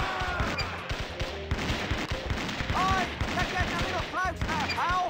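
Gunfire in the adventure game Curse of Monkey Island comes as dense, rapid bursts of shots mixed with ringing tonal sounds, loud and continuous throughout.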